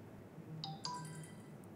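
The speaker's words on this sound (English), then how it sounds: "you can see that the notification sound did really change" Samsung Galaxy S21 text message notification: a short electronic chime of a few bright tonal notes over quiet background hum.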